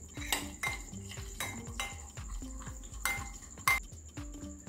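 Mayonnaise thinned with a quarter cup of milk being stirred for Cajun potatoes, a utensil clinking and scraping against the bowl in a steady repeated rhythm, close and fairly quiet.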